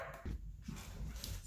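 Indoors, a dog gives a few short, muffled barks in quick succession, moderately close but faint and low.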